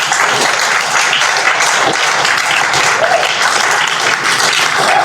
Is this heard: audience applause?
yes